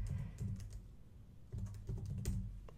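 Quiet, steady typing on a computer keyboard during software data entry: soft, close key clicks in two short runs with a brief pause between.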